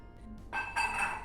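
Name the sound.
water poured into a pot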